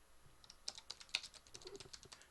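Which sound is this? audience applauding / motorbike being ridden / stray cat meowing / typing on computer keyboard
typing on computer keyboard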